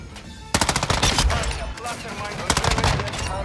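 M13 rifle fire in Warzone 2, two rapid automatic bursts of sharp, fairly close shots separated by a short pause.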